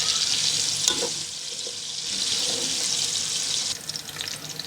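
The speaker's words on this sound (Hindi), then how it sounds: "इससे एक प्याज अच्छा सा क्रिस्पी ब्राउन होता है नमक डालना।" Onions frying with salt in a pan for chicken pulao, a loud, continuous close sizzle with a couple of faint stirring scrapes, holding steady throughout without speech.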